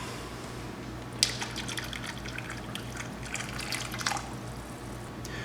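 Water swishes and drips lightly as it is stirred, with a few louder clinks partway through, over a steady low hum.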